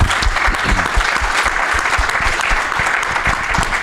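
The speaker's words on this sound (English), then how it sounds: "Round of applause, please." An audience at a sports business event breaks into a round of applause, steady dense clapping close and loud throughout, with a faint murmur of voices underneath.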